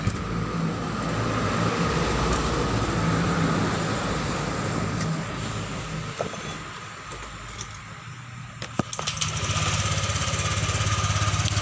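A Honda Vario scooter engine running after a water pump seal replacement and radiator refill, a steady close mechanical drone with a clattery rhythm that dips briefly and then rises again.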